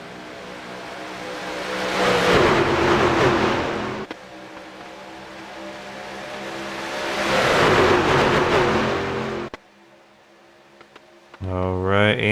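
Simulated stock race cars at Daytona in a sim racing game, engines winding up in two long rising revving surges and then dropping off sharply, heard loud and close under commentary.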